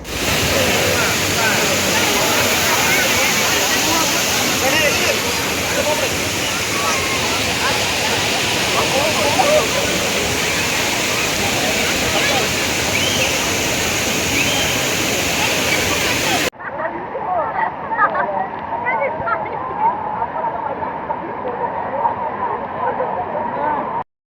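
Kuttralam waterfall near Coimbatore roars as a steady, loud wash of falling water, broadband and unbroken, then drops to a slightly softer, more distant rush toward the end.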